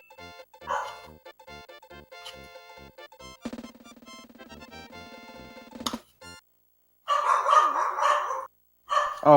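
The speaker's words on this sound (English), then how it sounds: "sorry if you can hear my doggos barking in the background" Several pet dogs barking in the background of a Super Mario World speedrun tournament stream, a run of sharp harmonic yaps and barks that stops, then returns as louder bursts near the end.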